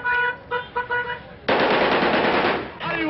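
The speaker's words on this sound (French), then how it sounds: "des hommes ont tiré des rafales en l'air au milieu des voitures klaxonnant bruyamment" Car horns honk in a street, then a long, loud burst of automatic gunfire rattles as men fire into the air, and the honking returns at the end, with a voice talking over it.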